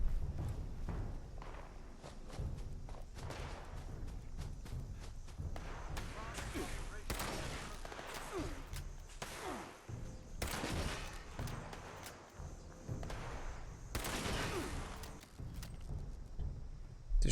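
Gunfire in the post-apocalyptic video game Fallout 76, scattered sharp shots and bursts over footsteps and game ambience, moderately loud throughout, with no voices.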